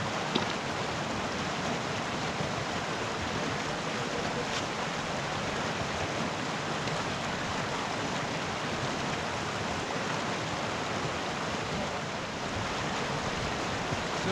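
A Scottish river between Loch Etive and Kinloch Rannoch, a steady broadband rush of flowing water with some wind noise, constant and close throughout with no voices.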